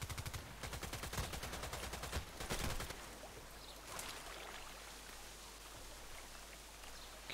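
Gunfire in the shooter video game Contract Wars at night, a rapid burst of automatic shots for the first three seconds, followed by a lone distant crack over a steady hiss like rain.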